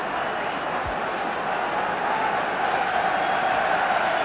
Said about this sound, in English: the applause, probably saw the referee's sign, is for the return of Goodman